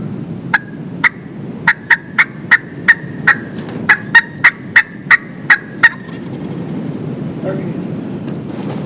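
A wild spring turkey gobbler in the woods answers with a rapid series of about a dozen sharp gobbles, fairly close and loud over soft forest ambience, with a brief faint rustle near the end.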